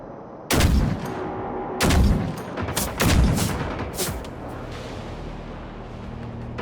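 Gunfire aimed at robotic machines in the video game Generation Zero: a handful of loud, spaced gunshots with booming tails, followed by a lingering low rumble.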